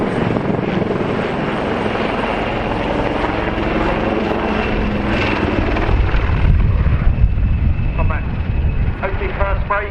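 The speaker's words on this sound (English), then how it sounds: "The latest generation of multi-role helicopters specially procured to operate from the frigates and destroyers" Royal Navy Wildcat maritime attack helicopters of the Black Cats display team thunder overhead at an airshow, a steady, heavy rotor roar swelling louder toward the end, while a commentator talks over the noise.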